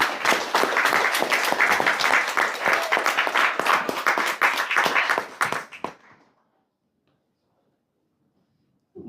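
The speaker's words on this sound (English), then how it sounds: "Tonight, would you give a big round of applause to Lindsay Thompson?" Audience applause at an evening campaign event for a U.S. Congress candidate in a kitchen venue, a dense burst of clapping that fills the first six seconds, then cuts off into silence.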